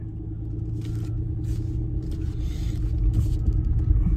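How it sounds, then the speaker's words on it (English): A car driving along a road, a steady, loud low rumble of engine and tyres heard from inside with no talk. "I'm going to start driving, guys"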